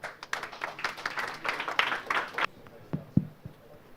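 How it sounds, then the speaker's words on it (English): Audience applause welcoming a stablecoin liquidity panel at a crypto conference, a dense burst of clapping for about two and a half seconds that cuts off abruptly, followed by a few scattered claps and faint voices. "Let's give them a round of applause."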